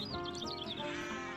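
Sheep bleat in a close, wavering series of several calls over a steady background murmur.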